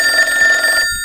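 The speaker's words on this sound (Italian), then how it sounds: "Squilla il telefono, vado a rispondere." A telephone bell rings loud and close in a short sustained trill, its tone cutting off near the end.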